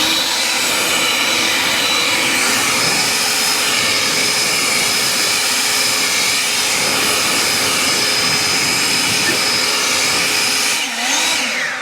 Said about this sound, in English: This is a good blower too. This is the most powerful in turbo.